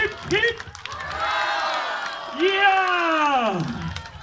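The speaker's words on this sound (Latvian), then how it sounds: "Aplausi, skaļi aplausi!" A crowd at a lively gathering cheers with loud, rising shouted calls and whoops in two big swells. Scattered clapping sits underneath, close and boisterous.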